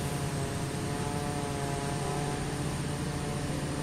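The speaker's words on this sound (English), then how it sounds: "We'll keep the plane running, so we got power and avionics." Pilatus PC-12 NG turboprop engine running on the ground in MSFS 2024, a constant loud whining drone with a high steady tone, unchanging and alone for the whole stretch.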